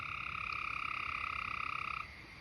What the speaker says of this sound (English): That was a Gray's tree frog.